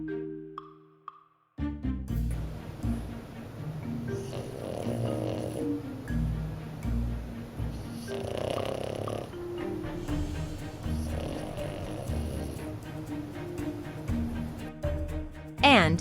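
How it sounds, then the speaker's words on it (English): A sleeping French Bulldog snores in slow, rhythmic rounds of rasping, snorting breaths, close and fairly quiet, with a voice speaking in the background. "The French Bulldog snores when he sleeps."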